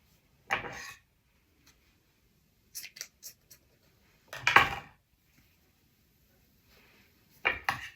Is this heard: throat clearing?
no